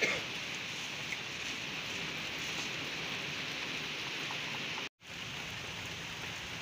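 Heavy rain pours down steadily outdoors in Dadyal, Azad Kashmir, a dense continuous hiss close by with no talk, briefly cut to silence near the end before resuming.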